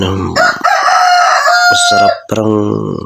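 Gamecocks crow loudly and repeatedly, several long rising calls overlapping one another, close by, with no talking.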